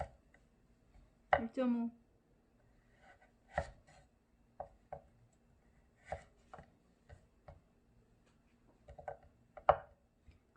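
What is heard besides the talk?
knife chopping carrot on a cutting board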